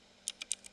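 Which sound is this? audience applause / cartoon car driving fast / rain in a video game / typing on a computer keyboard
typing on a computer keyboard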